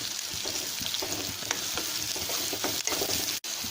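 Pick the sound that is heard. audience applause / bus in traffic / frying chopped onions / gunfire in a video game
frying chopped onions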